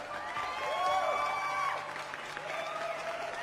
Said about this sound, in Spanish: vamos a recibir con un muy, pero muy fuerte aplauso a José Ramón Narváez